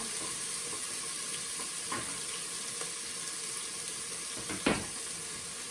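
Onions and browning meat fry in an Instant Pot, a soft, steady sizzle at low level with a few faint clicks and one short sharp knock near the end, no talking.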